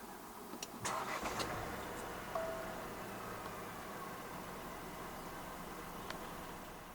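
A 2025 Proton X70 with a 1.5 TGDi engine is push-button started: a brief starter whir and catch about one second in, then the engine settles into a steady, fairly quiet idle that continues to the end.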